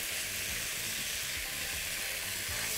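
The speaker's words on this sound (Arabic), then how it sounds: "والفراخ اروحه كده سوتيه مع الخضار" Chicken sautés in a pan with vegetables, peppers, onion and garlic, giving a loud, constant sizzle with faint rhythmic stirring scrapes underneath and no voices.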